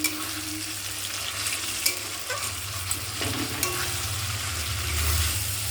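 Vegetarian paneer curry with mashed boiled potatoes being stirred in a pan, a low steady sizzle with occasional scrapes and light knocks of the spoon, swelling slightly toward the end.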